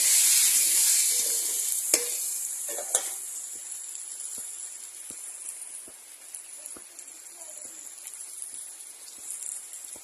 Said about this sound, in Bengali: এবার ঝোলের আলুটা ভাজা করে নিচ্ছি হালকা করে।